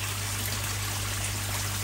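A small 3-pound, 40-watt pump circulates koi pond water out through a clover-leaf outlet, giving a steady, continuous trickle and splash with no pauses and no voices.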